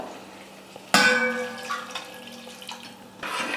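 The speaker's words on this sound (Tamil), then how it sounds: "இப்போ தேவையான அளவுக்கு வந்து தண்ணி சேர்த்துக்கிறேன்" Water is poured into a small-onion and tamarind gravy cooking in a pan, a sudden splash and clatter followed by sizzling, bubbling liquid, then a second pour near the end, with no talking.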